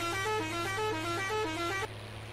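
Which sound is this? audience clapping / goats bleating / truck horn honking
truck horn honking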